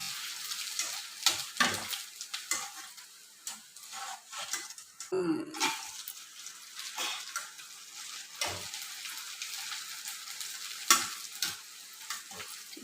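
Rice vadiyalu, sun-dried fritters, fry in a hot pan with a continuous soft sizzle, broken by scraping stirs and light clatter from a utensil moving them around, close and moderately quiet.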